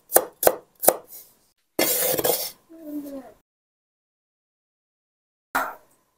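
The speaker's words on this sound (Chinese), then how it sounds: "再准备几颗发芽的大蒜，切成片。" A knife slices sprouted garlic cloves into pieces on a board. Three quick, sharp chops come first, then a harsher scraping burst and a softer rustle. After a silence, one more cut lands alone.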